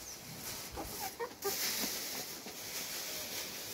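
Backyard chickens cluck softly while being fed grain from a small bucket, with a few short clucks over a steady outdoor hiss and no clear talk.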